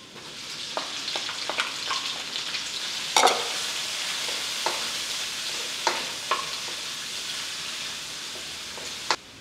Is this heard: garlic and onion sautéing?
yes